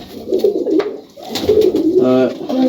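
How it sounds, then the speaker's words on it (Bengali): Kaldom pigeons in a highflyer loft coo in low, throaty rolling bursts close by, one call rising into a clear pulsed warble near the end. "এই কবুতর হচ্ছে কালদম কবুতর"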